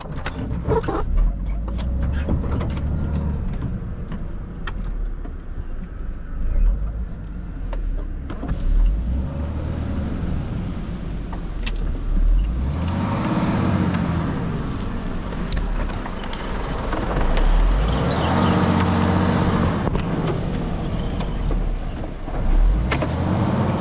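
A car stuck on a forest track strains forward, its engine droning and rising in a loud, continuous revving that swells again near the end, with no talking over it.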